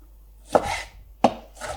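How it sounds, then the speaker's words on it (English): Two sharp knife chops through fresh tomatoes on a cutting board, each a crisp thud followed by a brief wet crunch, spaced about two-thirds of a second apart, close and clear with no talking. "So while you're chopping up the tomatoes, make sure to keep an eye on your pancakes"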